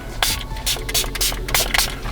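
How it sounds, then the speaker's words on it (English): Several quick hissing bursts of a spray bottle of cleaning solution onto a car screen, spaced irregularly, close by over a faint background. "We're going to spray it again"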